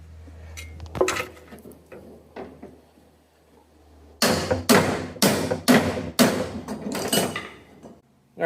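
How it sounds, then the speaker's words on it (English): Several loud metallic hammer impacts on a bent car wheel part land in a quick cluster, ringing against a quieter workshop background with scattered clanks beforehand. "That's how it bent, so maybe I'll hit this with a hammer,"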